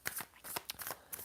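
Tarot cards shuffled by hand at close range, a quick run of soft papery riffles and flicks in short bursts with brief pauses between.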